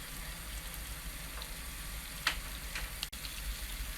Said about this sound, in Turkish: Tereyağımız eridi ve kaynamaya başlıyor. Şöyle köpük köpük olsun, güzelce bir kızarsın.